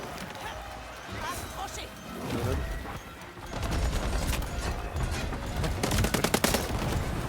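Gunfire in the video game Highguard, bursts of shots and rapid fire growing denser toward the end, mixed with footsteps and game clatter while voices talk over it.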